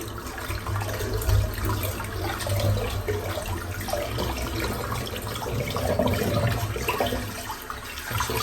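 Cold water splashes and runs from a tap into a sink, a steady, close gush with irregular splashy surges throughout and no talking.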